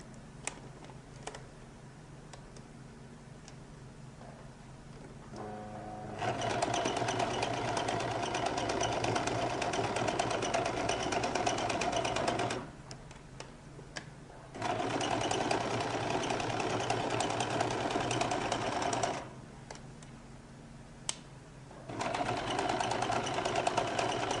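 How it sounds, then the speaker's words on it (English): Sewing machine running gather stitches along a lady's jacket lining, two long bursts of steady close whirring separated by quiet pauses, ending as a third run starts. "So I'm going to start by running a few gather stitches."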